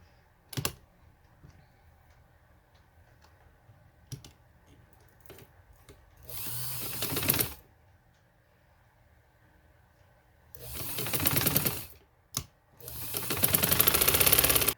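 A sewing machine stitches lace onto palazzo fabric in short bursts, loud whirring runs separated by quiet pauses and a few sharp clicks, close by.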